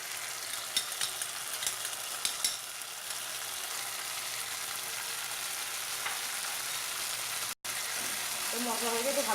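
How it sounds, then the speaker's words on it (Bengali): A paste of melon seeds, cashews and raisins fries with spices for malai kofta curry, sending up a steady, fairly quiet sizzle with a few light stirring taps and one brief dropout near the end. "এই মশলাগুলোকে একটু ভালো করে কষে নিতে হবে"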